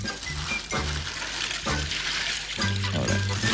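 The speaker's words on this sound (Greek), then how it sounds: "τη γεμίζουμε με νερό και ρίχνουμε μέσα πάγο" Water pours and splashes into a basin in several bursts, with faint clinks as ice goes in, close and fairly loud with no talking.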